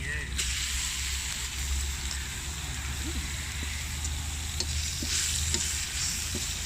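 Meat sizzles steadily in a hot pan, a loud continuous frying hiss with occasional stirring clatter throughout.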